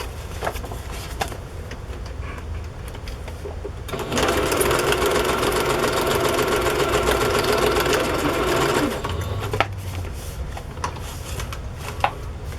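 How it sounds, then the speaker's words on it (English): A sewing machine stitches along the edge of a paper journal page, a rapid mechanical buzzing run of about five seconds, close and loud, with quieter handling clicks before and after. "I'm going to do another row of stitching closer to the edge"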